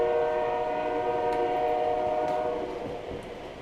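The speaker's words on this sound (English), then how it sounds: "this train over here's moving again" An HO scale model train runs on a layout with a sustained tonal hum and whine, fading slightly toward the end, with a few faint clicks.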